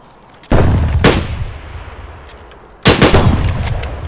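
Shotgun blasts in Escape From Tarkov: two loud, booming reports, one at the start and another a couple of seconds later, each with a sharp crack and a long rolling tail.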